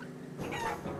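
Chickens in a Wallace and Gromit video game, a brief burst of clucking that lasts under a second over a faint background.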